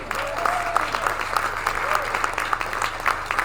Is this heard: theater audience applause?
yes